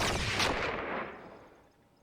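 A single loud gunshot from the TV series Firefly, a sharp blast followed by a long rumbling decay that fades over about two seconds, with no speech over it.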